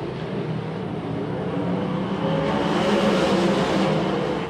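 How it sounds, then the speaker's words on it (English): Winged sprint cars at the Chico 410 race thunder around the dirt track out of turn four, a dense, loud roar of several engines building slightly as the field passes close by. "Wing sprint cars out of turn number 4"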